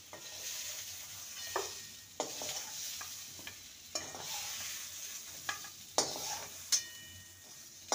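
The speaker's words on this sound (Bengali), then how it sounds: "মিনিট 2-3 ঢাকা দিয়ে আলু পটলটাকে ভেজে নিয়েছি" Potato and pointed gourd fry in a pan with a soft continuous sizzle, broken by several sharp scraping clacks as a spatula stirs them.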